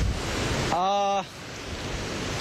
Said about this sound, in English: Very, very windy. It's really windy.